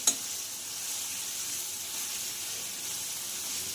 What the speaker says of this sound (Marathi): त्याचं तेल सुटेपर्यंत आपल्याला ही भुर्जी फ्राय करायची आहे